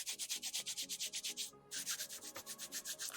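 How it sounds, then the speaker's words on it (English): Rhythmic back-and-forth sanding of wood, close and steady, with a brief pause midway before the scraping strokes resume. "That's why I hate sanding shelves down."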